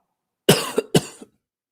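Two harsh coughs in quick succession, close and loud, each with a short raspy tail, alone with no talk.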